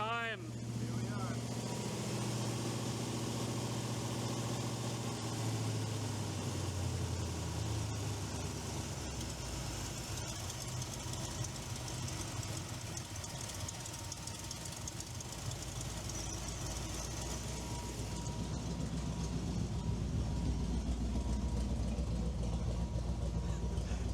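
A small block Chevy V8 idles steadily in an El Camino with an exhaust leak, giving a continuous low rumble, loud and close, with its tone shifting partway through and no pauses.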